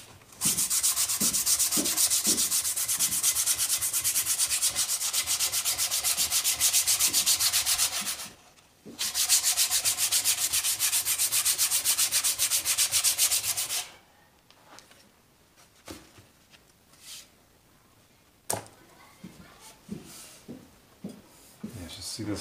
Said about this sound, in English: So first I gotta sand that a bunch to get that kind of a uniform color.